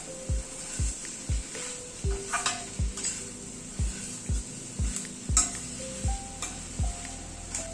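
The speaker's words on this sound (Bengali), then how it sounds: "মিনিট 3-4 সময় ধরে গ্যাসের ফ্লেমটাকে কম করে সবটা কষিয়ে নিলাম।" Prawn curry sautéing over a low gas flame, a soft sizzle under regular rhythmic scrapes and knocks of a spatula against the pan, about two strokes per second, close and fairly quiet.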